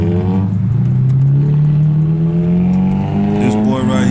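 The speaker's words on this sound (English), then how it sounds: "he really just running this car. Listen at it go, y'all. Listen at it go." A car engine revs hard while driving, its pitch climbing steadily and staying loud and close throughout, with a brief harmonic sweep near the end.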